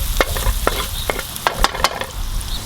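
Ginger sweating in hot fat in a pan for a Hmong-style stir-fry of green beans and chicken wings, a soft steady sizzle broken by several sharp clicks and scrapes of stirring.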